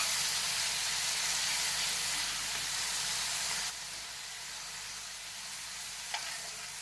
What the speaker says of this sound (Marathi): आणि चॉप केलेले टमाटर छानसे आपल्याला तळून घ्यायचे आहेत